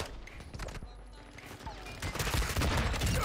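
Rapid gunfire and blasts from a Call of Duty match, including an RPG strike, a dense burst of shots that swells louder toward the end, close and harsh.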